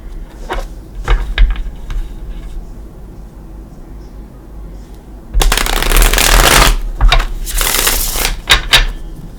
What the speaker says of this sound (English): I'm going to give him a couple shuffles.